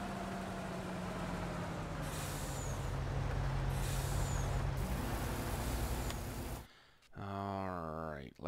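Heavy truck air brakes in the Farming Simulator video game, a few sharp hisses over a steady loud engine rumble, followed by a gap and then a rising, stepping engine tone as the vehicle pulls away; no talk.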